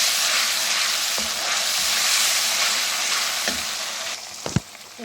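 Continuous loud sizzling of garlic frying in a pan, with a few scraping stirs and a sharp clink near the end.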